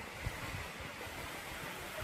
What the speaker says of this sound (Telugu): సో ఇది వాటర్ ఫాల్.